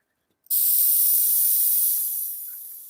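Airbrush spraying purple paint, a sudden close hiss that starts after a short click and holds steady before gradually easing off.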